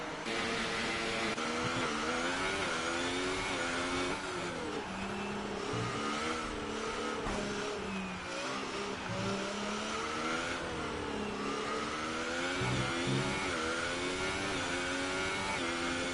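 A Formula 1 race car engine screams at high revs in an F1 racing video game, a sustained loud whine that rises and falls in repeated sweeps without pause.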